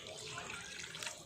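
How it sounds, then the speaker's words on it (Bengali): Warm water pours into a cooking pot with a faint, steady splashing trickle. "এই জলটা মিশিয়ে দিলাম"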